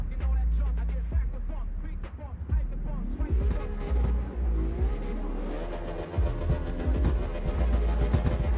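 Car driving in the video game S.T.A.L.K.E.R. 2, an engine revving and rising in pitch as it accelerates, loud and continuous, with a player talking over it.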